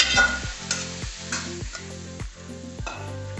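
Cooked beans and carrots being stirred in a hot pan for a Kerala thoran, with steady sizzling and about five rhythmic scraping strokes of a spoon against the pan, close up and without talk.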